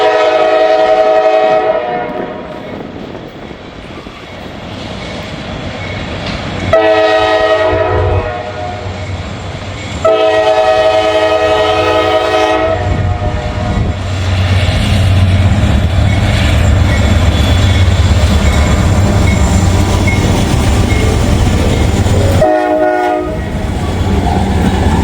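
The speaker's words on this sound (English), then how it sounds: "giving me a horn salute. They're blowing for the workers down there." A train passes close by through a rail work zone, sounding its horn in several long loud blasts with gaps between them, over a steady heavy rumble and clatter of the cars.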